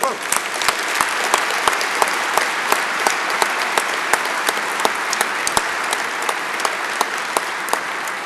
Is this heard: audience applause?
yes